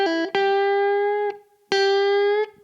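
Distorted electric guitar plays a short blues-rock lick from a lesson, quick picked notes sliding up into a sustained bent note, then a fresh attack and another ringing held note, loud and close with no talking.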